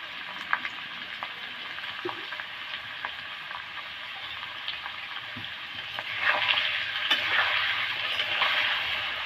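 Potatoes sautéing in a pan with salt for a plain white potato curry, giving a steady broadband frying sizzle with light scraping stirs, growing louder and denser in the last few seconds.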